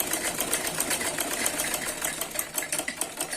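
A sewing machine stitches suit fabric, its needle running in a fast, continuous rattling chatter with a steady mechanical hum, close up and alone.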